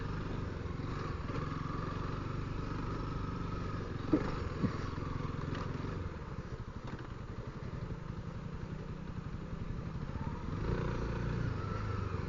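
Honda CRF300L dual-sport motorcycles ride through deep canyon sand in Arizona, their engines a fairly quiet, steady mid-pitched drone that rises and falls slightly throughout, with no talking.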